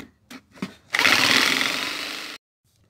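A power tool cuts a piece from recycled material for a chicken feeder. A few short knocks come first, then one loud, steady, close buzzing cut of about a second and a half that stops abruptly.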